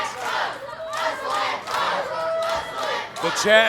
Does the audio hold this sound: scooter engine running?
no